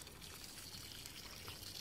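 Water poured from above onto the roots of a young sweetcorn plant in a sunny garden, a steady, soft splashing trickle that runs evenly throughout, faint and close with no talking.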